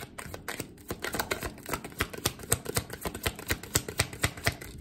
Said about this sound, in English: I thought it was important for me to shuffle in front of you guys.